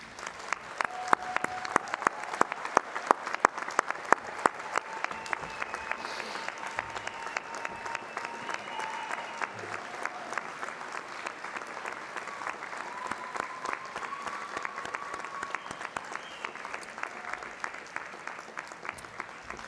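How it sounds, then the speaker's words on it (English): Graduates at a university graduation ceremony turn to applaud their guests, producing dense, sustained clapping across a large hall for about twenty seconds, with faint voices and cheers scattered beneath the steady patter. "offer them a rousing round of applause"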